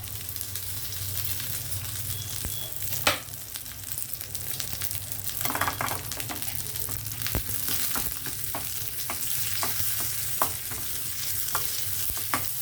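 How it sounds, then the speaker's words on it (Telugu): Spice tempering with dried red chilies and curry leaves frying in oil, a continuous close sizzle punctuated by sharp stirring clicks and spatters. "అంత తాలింపు చక్కగా వేగింది"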